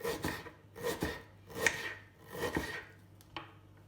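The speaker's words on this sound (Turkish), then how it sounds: "orta boy bir kuru soğanımı yemeklik doğramayla başlıyorum" A medium-sized dry onion is diced on a cutting board for cooking. About five distinct, crisp knife strokes land at a steady rhythm, close and clear, with soft scraping between them.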